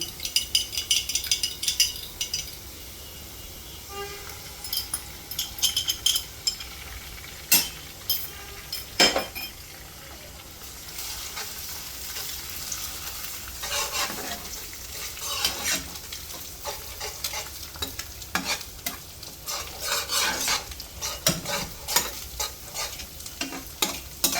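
Steady sizzling of eggs frying with fried onions in a pan, with scraping and stirring clatter from a utensil throughout; no voices.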